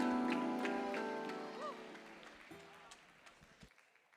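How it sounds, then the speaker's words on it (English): An audience applauds the evening-wear contestants at the Mr. and Miss Augusta University scholarship competition. The clapping starts under a speaking voice and gradually fades out. "Please give a loud round of applause to all of our contestants for evening wear."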